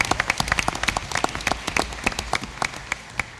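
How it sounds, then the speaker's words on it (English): A small audience at a school board meeting claps, the individual hand claps sharp and distinct, thinning out toward the end. "Give him a round of applause for that"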